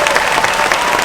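An audience at a robotics competition opening ceremony claps in a brief, dense burst of steady applause, loud and close.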